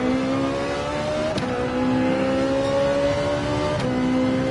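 Race car engine in Gran Turismo 7 on the Daytona Road Course, a steady loud drone that climbs in pitch, breaks briefly at two gear shifts, and climbs again.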